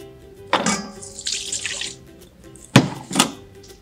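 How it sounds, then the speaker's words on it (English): Borax stirred into water in a bowl splashes and swishes in short bursts, with a couple of sharper sloshing strokes near the end. "you pour it in a bowl and you stir it all up"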